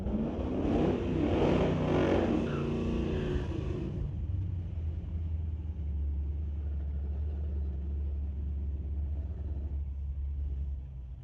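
Drag racing car launching down the track in a sportsman race, a loud roaring burst that fades into a lower distant rumble as it pulls away.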